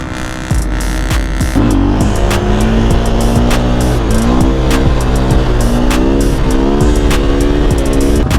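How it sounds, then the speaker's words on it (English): A 2019 KTM 500 EXC-F dirt bike engine runs loud and close the whole time, its revs rising and falling in repeated throttle swells with a steady throbbing drone underneath. "That's the Bull Dylan's new bike, 2019 500 EXCF"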